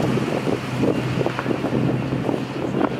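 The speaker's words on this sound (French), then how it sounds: "Ouais, un bon vent." Steady wind buffeting the microphone with a low, gusty roar, continuous and loud throughout.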